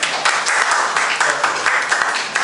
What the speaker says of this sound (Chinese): 给他掌声鼓励一下